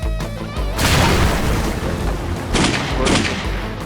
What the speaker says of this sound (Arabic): انت بترمي الامان، ارمي القنبله هتفرقع